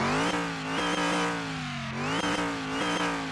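A Dodge Charger V8 in the Car Mechanic Simulator game revs loudly and steadily, its deep droning tone rising and falling through several throttle blips with a slight high-pitched whine on top.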